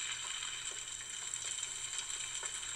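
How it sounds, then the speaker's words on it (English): Eggs frying in a frying pan give a steady, faint broadband sizzle with small crackles throughout, alone with no talk. "Looks like a frying pan and some eggs to me."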